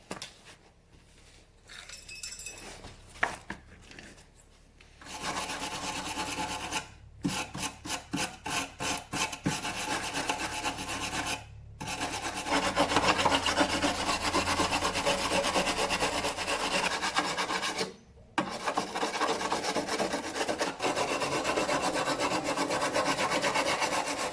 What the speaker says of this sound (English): I think we'll use my wire brush and not my bald wire brush.